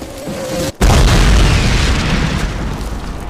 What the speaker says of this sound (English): Mortars! Mortars incoming!